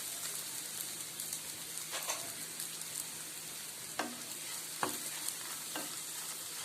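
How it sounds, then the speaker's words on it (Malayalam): Slices of store-bought bread fry briefly in oil in a pan, giving a soft, steady sizzle with a few sharp clicks and taps near the end; no one speaks. "അത് ഒന്ന് എണ്ണയിൽ വാട്ടിയെടുക്കുന്നുണ്ട്"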